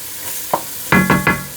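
Chopped onion sizzles in hot bacon grease as a utensil stirs it, a few quick scraping knocks over a soft hiss, brief and close.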